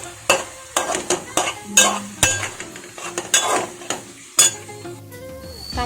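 Two chopped tomatoes hit a pan of fried ginger-garlic paste for a drumstick curry, sizzling while a spoon scrapes and clinks against the metal in repeated sharp strokes, close and fairly loud, with no talking.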